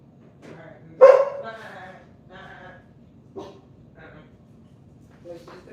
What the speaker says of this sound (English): Dog go crazy